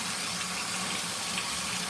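An LG ThinQ washer fills with water during its pre-wash cycle, giving a steady, moderately quiet rush of running water with a low hum underneath, continuous throughout.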